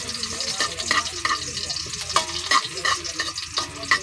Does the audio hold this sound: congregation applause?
no